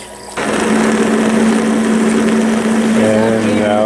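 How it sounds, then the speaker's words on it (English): A homemade irrigation pump, switched over to work as an orchard aeration air pump, starts with a jump into a loud, steady motor drone with a humming tone; near the end a bubbling gurgle joins in. "And now it's an air pump. Now it's an aeration pump."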